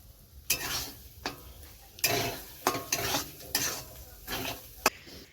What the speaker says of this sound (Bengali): সব মিক্স করে দিয়েছি ডিম চিংড়ি মাছ ক্যাপসিকাম বিনস গাজর